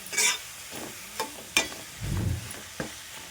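Chicken pieces frying in hot oil in a home kitchen, with a soft sizzle under a few sharp clicks and scrapes of stirring, close up with no talking.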